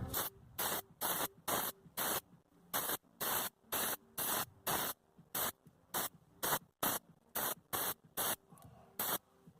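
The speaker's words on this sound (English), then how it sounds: "Got some of this underbody coating. Gonna give it a good shake." An underbody coating aerosol can sprays in about eighteen short, loud bursts with brief pauses between them, a steady hissing rhythm close to the microphone, with no talking.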